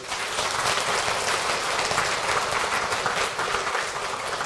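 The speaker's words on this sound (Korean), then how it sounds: "큰 박수로 환영하시겠습니다." Audience applause welcoming guests at a Won Buddhist service, dense sustained clapping from a hall full of people that runs evenly throughout at moderate volume.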